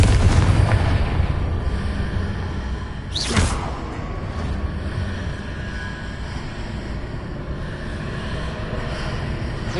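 A Confringo blasting spell goes off in the Hogwarts Legacy video game, a loud broadband boom near the start with another sharp blast just after three seconds, then a rumbling combat din that carries on to the end.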